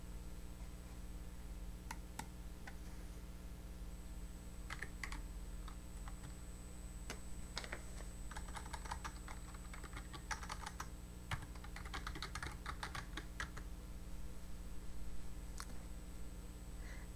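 Keys clatter on a computer keyboard in irregular bursts of taps, fairly faint over a steady background hum.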